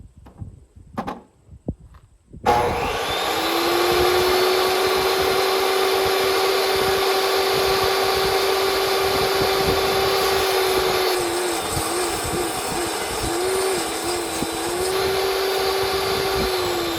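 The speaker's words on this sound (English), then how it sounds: "I just use a table saw to rip the edges" A table saw rips the edges of pine 2x8 boards, a loud steady whine with a strong sustained tone starting after a brief quiet lead-in and running continuously, with slight pitch dips as the blade loads in the wood.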